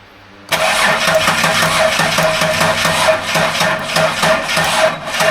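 An L67 V6 engine with its injectors disconnected cranks on the starter during a compression test, a loud, close, steady rhythmic churning that starts abruptly and continues without firing.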